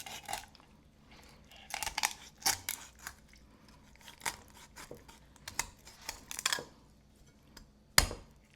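Raw chicken is cut in two for an oven roast, giving irregular crunching, slicing and crinkling sounds in short bursts. A sharper crunch comes near the end, with quiet pauses between cuts.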